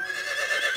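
A cartoon horse neighs in a single brief, high whinny, fairly close and alone without talk.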